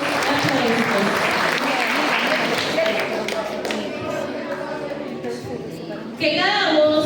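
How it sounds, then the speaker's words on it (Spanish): Warm applause from an audience at a school essay and speech contest in Peru, sustained clapping that fades somewhat midway before a voice speaks over the end. "Le brindamos fuertes y calurosos aplausos."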